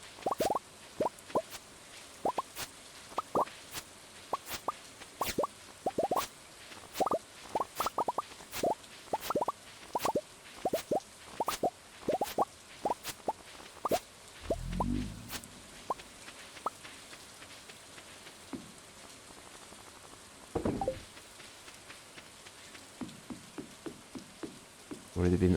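Rain in a farming video game patters as sharp, irregular droplet plops, quiet and close, with a couple of brief softer swells midway and no talk.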